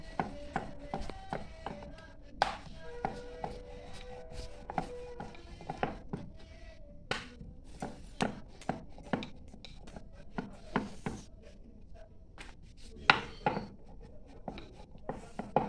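A ball of samosa dough rolled flat with a rolling pin on a board, repeated soft rolling thumps and knocks with light scraping, close by and alone, with no talking.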